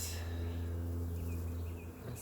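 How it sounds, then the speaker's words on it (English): Honeybees in an open hive roar with a steady, close droning hum throughout, brief and without a break. "They're starting to roar. You can hear them roaring."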